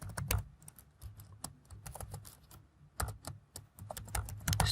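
Typing on a computer keyboard while writing Spring MVC web service code: steady, close clicking keystrokes in irregular quick runs with brief pauses.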